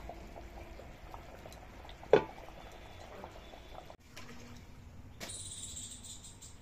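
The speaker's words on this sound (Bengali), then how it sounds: "তাও মাটির হাড়ির ভিতর কেমন ফুটতেছে দেখেন" Jackfruit and meat curry bubbles softly in a clay pot over a stove, a low, steady simmer with one sharp knock partway through and a bright clatter near the end.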